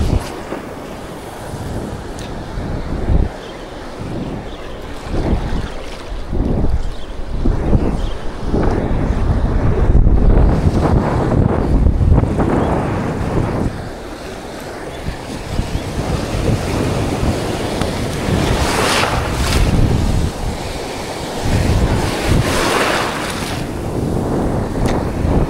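Wind and surf on a rough sea at an island shore while fishing for trevally, a steady roar of waves breaking with wind buffeting the microphone, loud and continuous throughout.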